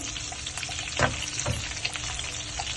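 Curry leaves and onions crackle and sizzle briskly in hot oil for a kadhi pakora tempering, with a couple of sharper pops, continuous and close.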